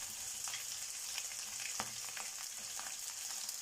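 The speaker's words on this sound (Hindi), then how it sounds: "ये वेजिटेबल्स हमने फ्राई कर ली हैं" Shredded cabbage and carrots fry in a pan for cheese noodles, a faint, steady sizzle with light scattered crackles and occasional stirring taps, no voices.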